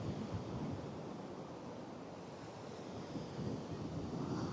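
Beach surf near the waterline, a soft broad wash of waves rolling in with wind buffeting the microphone, faint and continuous with gentle swells in loudness.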